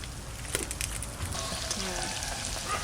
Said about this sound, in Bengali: আলুর মধ্যে একটু লবণ দেবো আর একটু বিরিয়ানি মশলা দিয়ে ভাজবো আলুটা